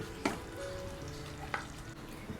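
Quiet, steady sizzling of spices tempering in hot oil for misal, with a couple of sharp clicks like a utensil tapping the pan.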